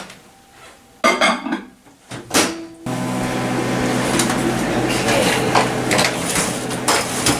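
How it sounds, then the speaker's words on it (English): A steady mechanical hum runs continuously after a few brief clatters, like a microwave oven running, loud and close. "this is going to go in the microwave for about 30 seconds at a time"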